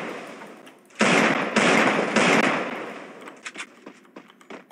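A few bursts of rapid video game gunfire ring out close by, followed by scattered fainter shots and clicks.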